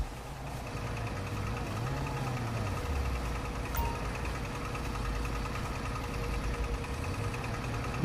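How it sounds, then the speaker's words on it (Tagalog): A car engine idles in a Los Santos video game scene, a low steady hum with slowly wavering pitch, moderately quiet and continuous with no talk over it. "Bossing, pakipatay po yung makina."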